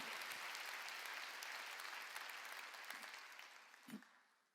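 A congregation at a Korean Wednesday church service claps together, a sustained soft wash of many hands that gradually fades out, with a brief thump near the end.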